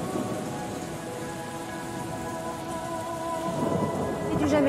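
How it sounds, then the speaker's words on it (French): Steady rain falls and patters continuously on surfaces, a dense even hiss with no voices. "Il pleut, et les yeux clos, j'écoute, de toute sa pluie à la fois, le jardin mouillé qui s'égoutte"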